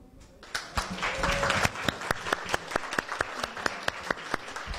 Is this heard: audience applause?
yes